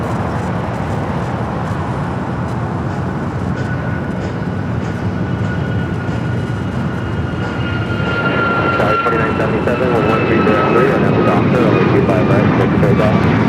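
A passenger jet takes off from Los Angeles International Airport, a broad steady engine roar that builds toward the end, heard at a distance with a voice speaking over it.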